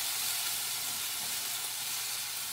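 Carrots sizzling in a hot pan for a cashew chicken stir-fry, a steady, bright hiss of frying with faint stirring, close and continuous.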